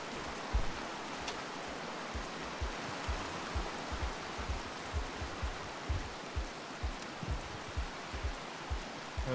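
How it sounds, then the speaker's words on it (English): Steady rain in the video game Rain World hisses across the full band, with regular low thumps pulsing beneath it at an even rhythm, loud and continuous with no talking. "I need to get out of here before the rain hits."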